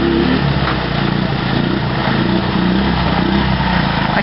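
A quad ATV engine buzzes and revs close by, a steady loud rasp with small surges in pitch throughout, and no talking over it.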